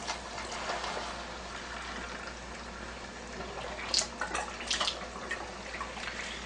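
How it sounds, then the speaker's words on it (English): Water runs steadily through a Leveluk SD 501 water ionizer, a constant soft rush with a few brief splashy surges and no talk. "let the water flow through for about a minute, minute and a half, 2 minutes"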